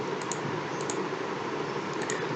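Fingers type steadily on a computer keyboard, a quick run of close, light key clicks over a constant hiss, with no voices.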